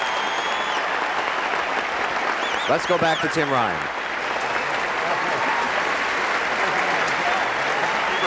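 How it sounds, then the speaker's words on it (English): Crowd applause at the US Open tennis tournament, a dense, steady clapping that fills the stadium throughout while a voice speaks briefly over it. "And one more nice round of applause for our champions."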